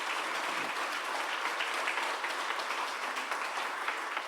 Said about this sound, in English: Can we give them a round of applause for their work?